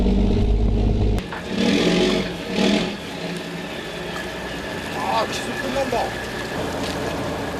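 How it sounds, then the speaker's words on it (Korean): A fish carrier boat on the autumn sea near a gizzard shad fishing vessel, its engine roaring loud and steady as it draws near, with broad wash and wind noise throughout. "운반선이 요란한 엔진 소리를 내며 달려온다."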